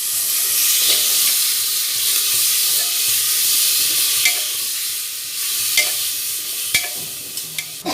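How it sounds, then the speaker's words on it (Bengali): Onion fries in a pan on a home stove, a steady loud sizzle and hiss lasting throughout, broken by occasional sharp clicks and scrapes of stirring near the end, with no speech. "আর এখানে আমার পেঁয়াজটা ভাজা হচ্ছে।"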